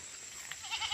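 A goat gives a brief, faint bleat, rising at the end of a quiet moment outdoors where goats climb and graze on vines.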